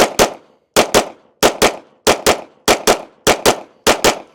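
Pistol shots fired in quick pairs, seven double-taps spaced evenly at close range, sharp and loud with no talk.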